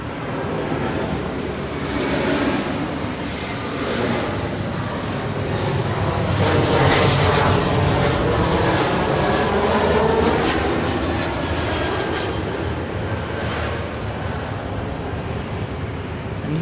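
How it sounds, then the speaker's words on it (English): An Alaska SkyWest Embraer E175LR jet landing at LAX gives a broad, steady roar that builds and swells through the middle, then eases slightly but keeps rumbling throughout. "Here we have Alaska SkyWest, San Jose, California to LAX. It's flight 3387 on an E175LR."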